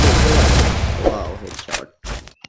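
Burst of video game gunfire from a battle royale squad match, loud dense shots in the opening second then a few sharper isolated cracks, with voices talking briefly underneath.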